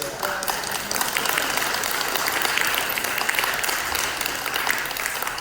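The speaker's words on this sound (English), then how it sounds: "how about a round of applause for the Woodlands Symphony String?" Sustained audience applause for the Woodlands Symphony Strings at a conservatory concert, even and continuous clapping from a sizeable crowd.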